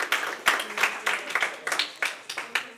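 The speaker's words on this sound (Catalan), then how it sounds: "Fort aplaudiment per elles també." Audience at a school quiz show applauding a student team, scattered clapping from a small group with distinct, uneven claps standing out close by, moderately loud.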